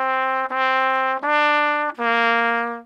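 Solo trumpet repeating a short phrase of quarter notes from Ode to Joy, four bright, evenly spaced sustained tones played close with no other sound.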